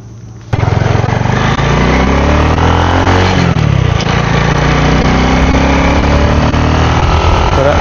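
A Modenas Kriss 110 motorcycle fitted with an adjustable CDI fires up after a brief quiet moment. It settles into a loud, steady, close-up idle with a buzzing, rattling engine note.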